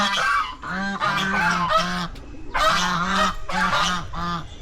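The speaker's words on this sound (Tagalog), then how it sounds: "Duck." A duck at a zoo animal sanctuary in Pililla, Rizal, gives loud, close, repeated nasal honking calls in quick irregular bursts with brief pauses between them.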